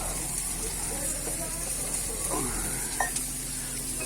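Dried chillies sizzle in hot frying oil during a home dinner cook, a steady close hiss with a few faint clinks and soft background sounds.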